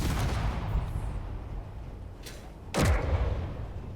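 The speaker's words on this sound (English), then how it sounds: "that's our gun shooting" An artillery gun firing in Space Engineers survival: a heavy boom at about three seconds with a deep rumbling tail, preceded by a fainter distant thud, all over a steady low background roar, with no talking.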